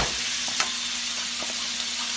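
Plain flour is stirred into melted butter in a pan with the back of a spoon or spatula, under a soft, steady sizzle. A few light scrapes and taps of the utensil come through up close.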